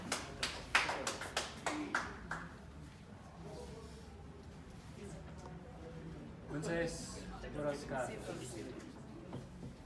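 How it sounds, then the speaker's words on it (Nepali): An audience claps to welcome a ghazal reciter at an international ghazal competition prize ceremony. A short burst of close, sharp claps opens the moment, then fades as voices talk over the room. "हामी उहाँलाई ताली बजाएर स्वागत गरिदिन्छौँ"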